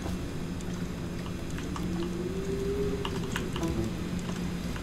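Steady clicking and tapping of keys on a computer keyboard during a Dishonored game session, close and continuous with irregular rhythm under faint game ambience, no voices.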